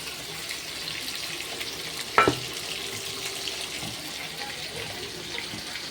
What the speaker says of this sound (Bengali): ওইদিকে পনিরটা ভাজা হচ্ছে